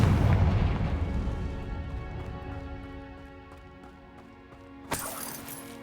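A Confringo fire spell explodes in Hogwarts Legacy during a troll fight: a heavy booming blast opens loud, then rumbles and fades over several seconds before a sharp crack near the end.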